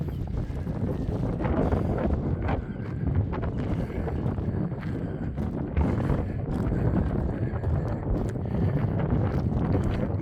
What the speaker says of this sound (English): This wind is very cold